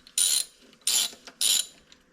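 A ratchet tightens bolts on a Ford 8000 Dual Power tractor, three distinct, loud, rapid clicking bursts, close up and spaced about half a second apart.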